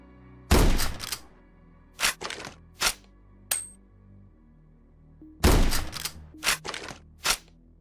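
Gunfire in the video game Quasimorph aimed at a creature, heard as two loud bursts of sharp shots several seconds apart, each followed by a few single thudding reports, with nothing between them.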